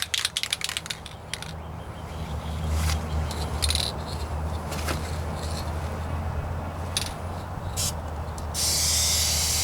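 A spray paint can lays a light coat on a Ford Ranger rocker panel in a steady hiss that comes in bursts, broken by brief clicks and rattles, with a louder sustained spray near the end.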